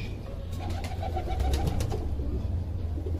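Flying pigeons coo in low, throaty, rolling phrases, several overlapping from nearby within a dense, steady flock murmur, with no speech.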